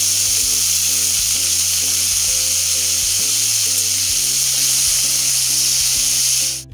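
Potatoes and five-spice seeds sizzling loudly in hot oil in a pan, a steady bright hiss lasting several seconds over a repeating low electronic hum, then cutting off abruptly at the end.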